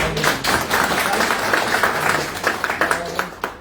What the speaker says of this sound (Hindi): हमारे सर के लिए एक बार जोरदार ताली